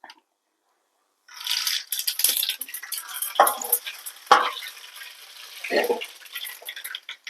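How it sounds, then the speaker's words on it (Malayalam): Mustard seeds hit hot coconut oil in a pan and crackle and sizzle in sharp, uneven bursts after a moment of silence, heard close up. "ഇനി നമ്മൾക്കിതിലേക്ക് കടുക് ചേർക്കാം."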